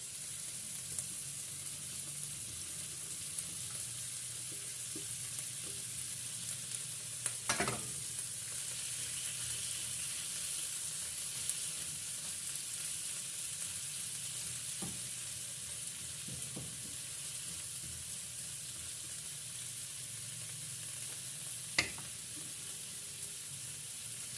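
Carrots and shrimp stir-fry in a pan with a faint, steady sizzle and occasional sharp clinks of stirring, quiet and without talk.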